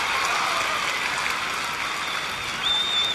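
Crowd at a Houston at San Diego baseball game claps for a fan's catch of a foul ball, a broad, even wash of applause that holds steady for a few seconds.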